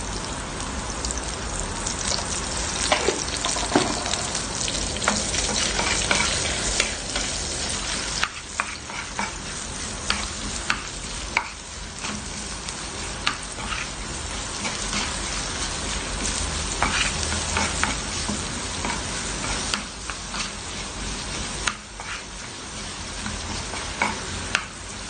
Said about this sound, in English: Of course, our garlic and onion. Let's start sauteing.